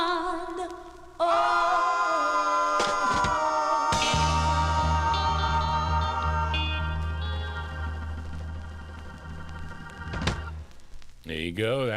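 1966 soul vinyl record playing with full band and vocals, broken by thumps and handling noise, then fading out near the end.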